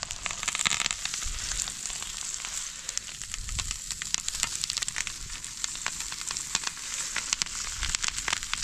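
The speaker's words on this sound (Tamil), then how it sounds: "நல்லா பொரியுது." Fish sizzles in a pan for Kerala-style meen pollichathu, a steady close bright frying hiss with popping crackles and occasional soft clinks, no talking.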